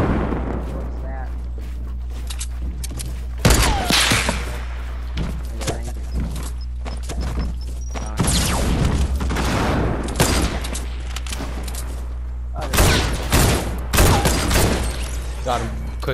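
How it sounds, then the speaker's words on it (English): Bursts of new assault rifle gunfire in the Fortnite video game, fired in short volleys separated by pauses, loud and close with game ambience and footsteps between shots. "Wow, this thing shoots really slow."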